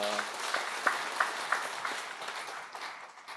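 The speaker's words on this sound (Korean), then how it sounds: "은혜로운 말씀을 전해주신 목사님께 감사의 박수를 드리겠습니다" A church prayer-meeting congregation claps in thanks to the pastor, several distinct hand claps standing out over a spreading round of applause that gradually fades, with a brief voice at the start.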